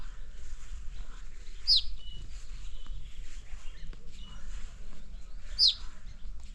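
Two sharp, high chirps, a few seconds apart, come from a small bird playing in the grass on a hill farm in Mukteshwar, Nainital, set against a soft, quiet outdoor hush.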